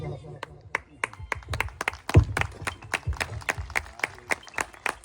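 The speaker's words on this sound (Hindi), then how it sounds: "तालियां बजाइए" Scattered hand claps from a small gathering at a family wedding in Chhattisgarh, sharp and irregular, mixed with voices talking over them throughout.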